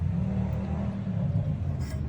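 A Land Rover engine running while driving, a loud steady low rumble with road noise and a slight rise in revs, close to the microphone with no talk.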